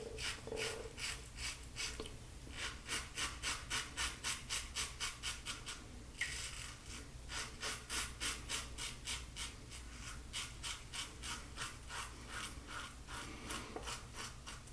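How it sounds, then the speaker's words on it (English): An electric razor buzzes loudly in close, rapid repeated strokes across stubble, a steady rasping pulse of about three strokes per second with a brief heavier pass midway, on a low hum and with no voices. "this razor is also loud"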